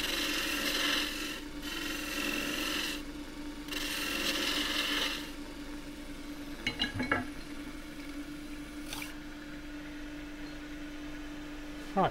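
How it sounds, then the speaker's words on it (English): A gouge cuts on a wood lathe to reduce a shoulder on a re-turned roughed-out cylinder, giving bursts of rasping, scraping noise that start and stop, followed by a few sharp clicks and a quieter steady hum. "Do it with the gouge because I can't get in there with the skew."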